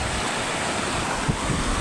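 Rough sea surf rolling onto a beach the morning after a typhoon, a steady loud wash of breaking waves with wind buffeting the microphone throughout.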